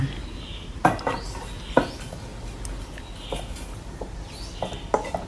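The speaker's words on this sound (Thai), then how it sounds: "นำหม้อหุงข้าวมาค่ะ เรานำข้าวที่เราผัดใส่ลงไปค่ะ" Stir-fried rice with Chinese sausage is scooped from the pan into a rice cooker pot, giving close clinks, scrapes and several sharp utensil knocks against the pot over a faint sizzle, with no talking.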